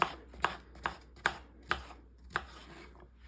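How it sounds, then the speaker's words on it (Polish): A knife chops zucchini into medium cubes on a board, about eight crisp, evenly spaced chops, close and clear with nothing else over them. "Cukinię ukroimy taką średnią kostkę."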